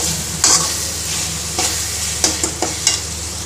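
Masala for a dry elephant-foot yam curry sizzling loudly in oil in a pan, with a steady frying hiss broken by several sharp scraping stirs of a spoon.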